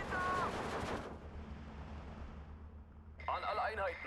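Gunfire crackles in the Steel Division 2 wartime strategy game, bursts of shots and rumbling battle noise rising at the start, easing to a low distant din, then flaring again near the end, mixed with game sound effects.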